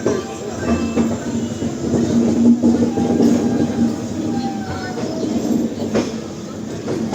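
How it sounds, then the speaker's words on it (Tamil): An express train from Tambaram to Rameswaram pulls out of a station in Tamil Nadu, its steady rumble and rolling wheels filling the platform with faint screeches and a brief clack, while a voice talks faintly in the background. "நம்ம ட்ரெயின் பார்த்திங்கன்னா ஆல்மோஸ்ட் கிளம்பிருச்சு"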